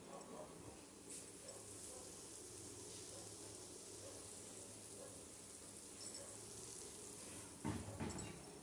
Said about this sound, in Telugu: ఇప్పుడు రవ్వ ఫ్రై చేసుకుందామండి.